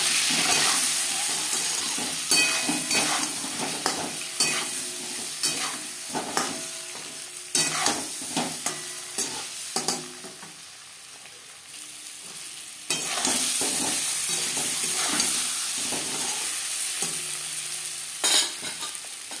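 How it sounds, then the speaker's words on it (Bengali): Eggs sizzling in hot oil with frequent clattering stirs and scrapes against the pan, the crackle dipping briefly midway before returning strongly. "ডিম ভাজা হয়ে গেছে"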